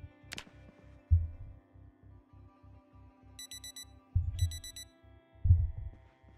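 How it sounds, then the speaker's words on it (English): An alarm clock in the Project Zomboid video game beeps in two short bursts of rapid high electronic pips, faint over a steady low rhythmic pulse and occasional thuds. "Set alarm."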